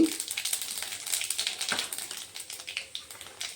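Panch phoron spices crackle and pop in hot oil, with quick, irregular sharp bursts over a soft sizzle, close and moderately loud.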